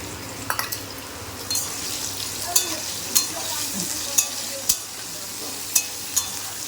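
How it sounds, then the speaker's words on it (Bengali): Potatoes and onions sizzle steadily in a pan, with a few sharp scraping clicks of stirring recurring every second or so over the frying hiss. "এখানে আলু ভাজা হচ্ছে"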